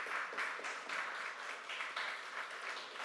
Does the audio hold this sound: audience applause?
yes